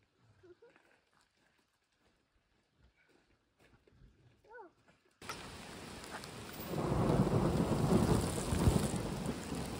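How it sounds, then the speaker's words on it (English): Heavy rain sweeps in suddenly after a quiet start with a faint voice, becoming a dense, loud, steady downpour with low rolling thunder underneath. "I swear the raindrops just got bigger."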